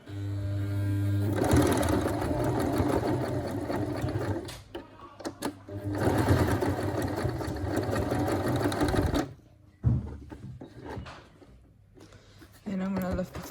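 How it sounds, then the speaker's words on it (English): An electric sewing machine stitches elastic onto a crochet shorts waistband in a long, loud continuous whir, then pauses and runs again in a few short bursts. "we're gonna sew the elastic down before I join these two pieces together"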